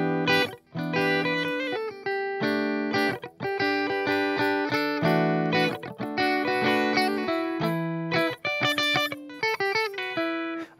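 An electric guitar with its volume knob turned down plays a clean, sustained chord passage through a DIY high-voltage neon tube drive pedal, ringing alone and steadily without talk.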